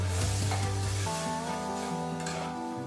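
Spiced vegetables including radish cooking in a pan as water is poured in, a dense hissing sizzle that holds steady with a faint gurgling, tonal rush of water under it.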